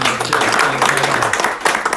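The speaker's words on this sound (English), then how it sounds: "Give me a round of applause." A crowd claps in sustained, dense applause at a property auction in Northcote, Auckland, right after the house sells, with an indistinct voice underneath.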